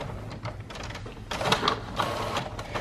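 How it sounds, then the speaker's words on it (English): A home printer runs through a page in a craft print-and-cut setup, giving a mechanical whirring and rhythmic shuttling clatter that surges louder partway through. "So let's let it print out."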